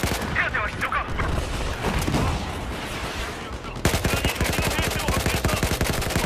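Rapid automatic gunfire in the video game Battlefield 4, a dense burst of shots that grows louder and sharper partway through, with a voice faintly underneath.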